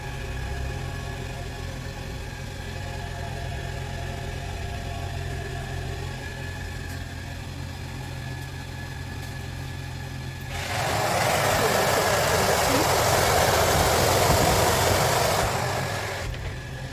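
A Unox XFT133 convection oven set to 160 degrees runs with a steady low mechanical hum. About two thirds of the way through, a loud broadband rush of steam or fan air starts and holds for several seconds, then cuts off.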